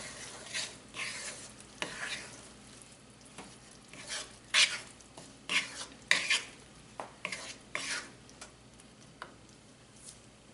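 A spoon stirs a salted, cooked tomato masala for lauki kofta curry in a pan, giving irregular scraping and clinking knocks over a soft sizzle, close by and without talk.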